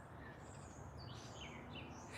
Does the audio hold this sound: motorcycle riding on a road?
no